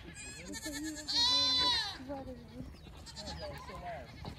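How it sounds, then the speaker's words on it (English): A goat at a farm in Austin, Texas lets out a loud, drawn-out quavering bleat nearby, followed by softer bleats, with people talking around it. "What do the goats say, Maxwell?"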